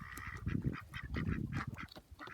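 Ducks quack in a quick run of short, nasal calls, several birds overlapping close together at a moderate level with no talk.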